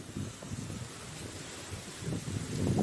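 Strong wind gusts buffet the microphone up in a lemon tree, a steady low roar of rumble and rustling that swells louder toward the end.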